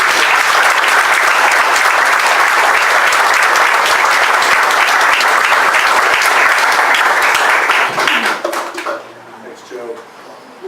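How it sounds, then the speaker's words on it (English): Audience applause at a veterans' village anniversary event: loud, dense clapping from a crowd that carries on for about eight seconds, then thins out into a few scattered claps and quiet room noise. "So the round of applause really is for you guys."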